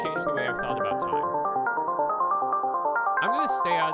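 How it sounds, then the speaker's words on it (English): A LameJuis phasor-based sequencer steps through a 64-step pattern of bright synthetic tones, an even, quick pulse of shifting pitches, loud and close, with a brief swooping tone near the end. "what you're hearing is a 64-step sequence by LameJuis"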